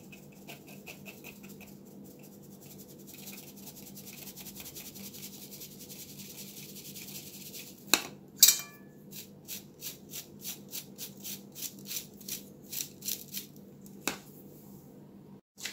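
Flour with baking powder and baking soda going through a sifter, a quiet run of soft rhythmic tapping and rattling pats, close and faint over low background hum.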